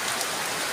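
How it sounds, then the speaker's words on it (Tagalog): Heavy rain pours down steadily in a dense, even hiss, loud and close, with no voices over it. "Malakas ng ulan o."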